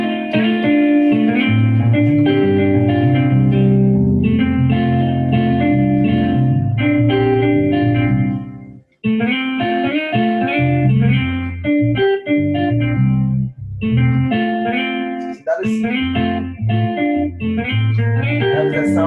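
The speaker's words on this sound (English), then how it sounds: "I can choose to give you the sound of a guitar." A synthesizer plays a melodic line with a plucked, guitar-like tone, loud and clear, with short notes and a brief pause partway through.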